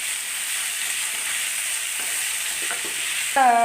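Ivy gourd stir-fry with turmeric sizzles steadily in a pan as it is stirred, with soft scraping underneath and a brief bright tone near the end.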